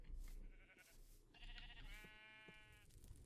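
Sheep bleat from a hidden base in a Minecraft-style block game: several wavering bleats in a row, faint and muffled as if from below, over low background hum.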